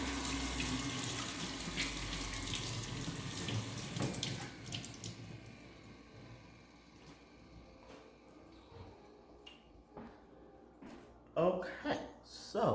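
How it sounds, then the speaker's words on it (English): Water runs from a tap while hands are washed at a sink, a steady broadband rush under speech that eases midway, then louder splashing bursts near the end. "let me wash my hands one more again"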